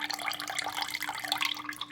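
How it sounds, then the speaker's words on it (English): Water is poured off paydirt in a gold pan during panning. It makes a steady trickling, splashing pour that runs the whole time, close and fairly quiet, with a faint steady hum underneath. "let me pour off a little water"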